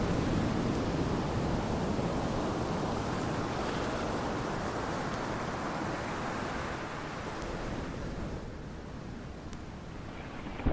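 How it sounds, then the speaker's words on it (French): A broad, steady wash of sea surf rolls on as a sound effect, loud at first and easing slightly toward the end, with no voices over it. "Ça, c'est le bruit de la mer de cristal, la voix de Kwanzaa."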